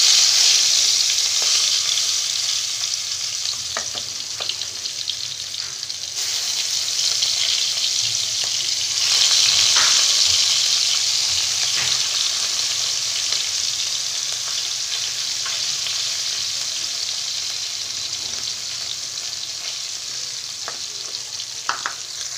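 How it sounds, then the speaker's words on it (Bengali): Singi fish frying in hot oil makes a loud, continuous sizzle with scattered spits and pops, heard up close with no talking throughout. "আর অর্ধেক মাছ আমার ভাজা হচ্ছে।"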